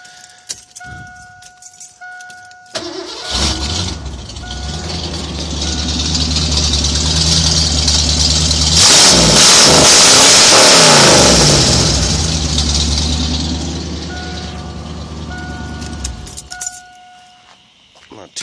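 A carbureted 1988 Ford Bronco engine cranks and fires, then idles and revs up loudly and settles back, with a keys jangle at the start.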